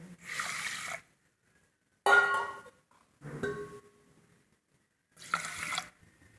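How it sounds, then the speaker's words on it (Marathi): Water splashes into a pan of sugar for gulab jamun syrup in four short pours, each about a second long, separated by brief silences, close by. "आता एक पेला पाणी टाकायचं"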